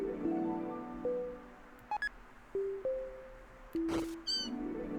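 Cartoonish synthesized cat meows from a Deltarune minigame on the Nintendo Switch, a series of short pitched electronic mews with sliding and warbling tones, spaced irregularly and heard alone without talk.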